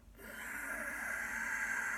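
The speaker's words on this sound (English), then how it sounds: "Ujjayi breath, victorious breath." A steady, soft hissing exhale through a constricted throat, breathy and sustained, close and fairly quiet, with no talking.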